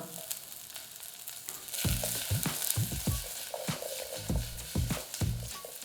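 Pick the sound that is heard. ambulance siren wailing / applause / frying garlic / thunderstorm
frying garlic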